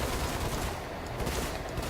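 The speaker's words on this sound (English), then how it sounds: "I end up just sitting still and trying to take pot shots like that" Ship-mounted guns firing in the Star Citizen space game, with the Origin 300i touring ship's Omnisky cannons shooting in a dense, continuous stream of rapid shots, loud and close with no pause.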